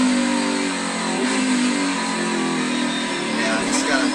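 Race car engine revving and climbing through gears at Sonoma, played back from a TV broadcast, a sustained whining drone with people talking over it.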